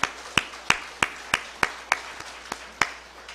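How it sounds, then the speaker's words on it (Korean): A church congregation claps in encouragement during a Sunday service, a sparse, evenly paced series of about ten distinct claps, each sharp and fairly quiet, with no talking over them. "우리 격려의 박수 한번 보내겠습니다"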